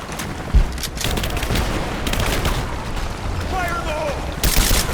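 Gunfire erupts in Rise of the Tomb Raider in a combat firefight: bursts of shots and booms rattle through the scene, with soldiers' shouted voice lines heard over the continuous battle noise.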